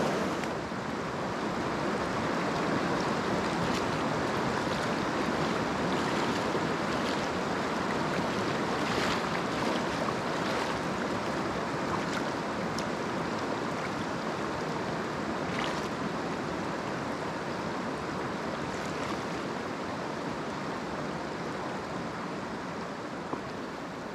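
River water rushes at a stream crossing on a motorcycle trip in Catamarca, a loud, steady broadband roar mixed with wind buffeting the microphone, continuous and close, with no one speaking.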